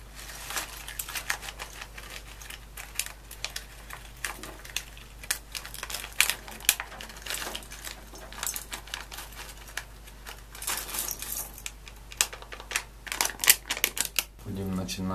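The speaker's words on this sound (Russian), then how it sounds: "Вскрываем пакет с компонентами." A plastic bag of small electronic components for a transistor and ESR tester kit is opened, giving close, steady crinkling and rustling with sharp clicks across the whole stretch.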